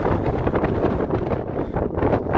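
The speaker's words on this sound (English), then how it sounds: "And excuse the wind, I know it's windy." Wind gusts buffet the microphone on a high mountain saddle between Grays Peak and Torreys Peak in Colorado, making a loud, continuous roar that swells and dips in pulses.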